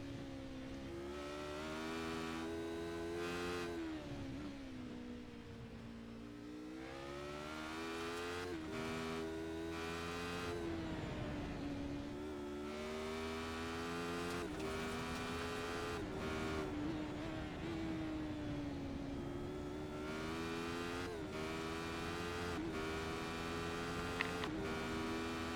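A Radical SR8 race car lapping the Knockhill circuit, heard from onboard, with its engine droning loudly and steadily as it repeatedly climbs in pitch under acceleration and drops back on lifts and downshifts, no voices.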